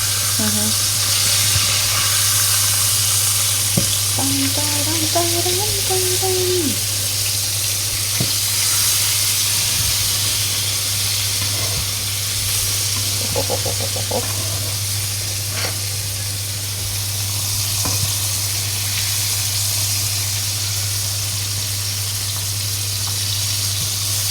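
Flour-dusted fish fries in a pan of oil, giving a constant, even sizzle at close range over about twenty seconds, with a faint low hum and a few small clinks and a brief squeak underneath.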